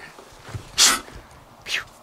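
A big black dog sneezes indoors, two sharp, close, breathy bursts about a second apart, with faint snuffling and quiet background noise in between.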